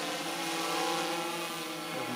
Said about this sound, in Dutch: Although the Hexacopter flies on limited power, it's still able to climb.